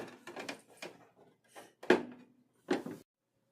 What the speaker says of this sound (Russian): двери открываются